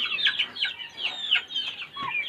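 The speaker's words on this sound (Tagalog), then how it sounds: "Yung basilan breed ko na manok." Native Basilan breed chickens cluck and chirp in short, close, bright calls that overlap in a busy, irregular rhythm, with no talking.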